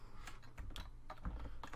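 Quick clicks of a computer keyboard being typed on, close and crisp, in a brief irregular burst of keystrokes.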